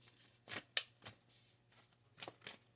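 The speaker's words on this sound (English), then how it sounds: "we need to give this a little shuffle" Tarot cards riffle and slap together in several quick bursts, close up and fairly quiet, with short pauses between shuffles.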